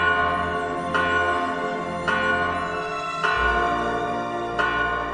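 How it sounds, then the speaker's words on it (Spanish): Church bells ring out in a steady sequence of four clear, resonant strikes about a second apart, each one blooming over a sustained humming tone, loud and close with no talking. "las campanas de la iglesia comenzaron a sonar solas"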